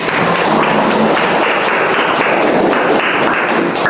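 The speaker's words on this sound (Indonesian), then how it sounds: "Bagus, kita beri aplaus untuk." A classroom audience claps together in a dense, steady round of applause that stays loud and even from start to finish.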